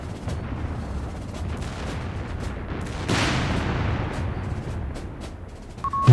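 Anti-tank gun emplacement fires in the World War II strategy game Company of Heroes 3, loud booming shots with a heavy rumbling tail, set against dense battlefield gunfire and explosions.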